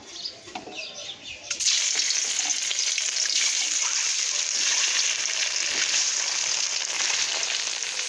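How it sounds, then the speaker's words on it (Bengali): Beaten egg mixed with turmeric and salt hits hot oil in a wok: after a quieter start, a sudden loud, close sizzle bursts up and then holds as a dense, steady crackle to the end. "ডিমটা ভাজি হয়ে যাক।"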